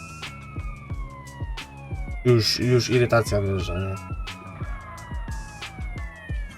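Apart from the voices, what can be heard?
ambulance siren in video game GTA San Andreas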